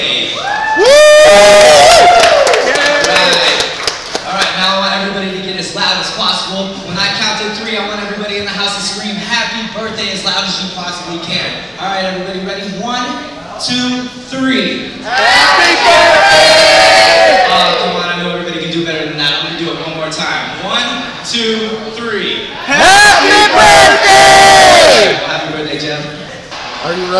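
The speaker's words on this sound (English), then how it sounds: "Can I get a round of applause" A restaurant crowd at a Buffalo Wild Wings cheers, whoops and shouts loudly for a birthday guest, with bursts of louder cheering near the start, middle and end over continuous crowd chatter.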